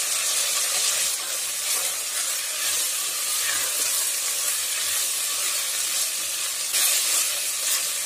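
Vegetables fry in hot oil for a veg pulao made in a pressure cooker, likely capsicum and tomato among them, giving a steady, loud, even hiss and sizzle throughout with no talking.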